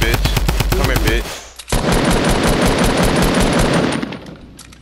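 Rapid automatic gunfire from a Fortnite match rattles loudly and continuously for several seconds, opening over a burst of overlapping voices and fading near the end.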